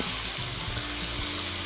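Onions and carrots frying in olive oil in a pan, a loud, dense, continuous sizzle and crackle right up close, with no voices over it.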